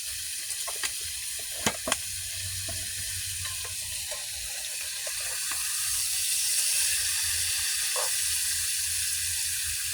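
Strips of bacon sizzle steadily in a pan with a broad, even hiss, joined by a few sharp clicks and taps early on, the frying growing slightly louder toward the end.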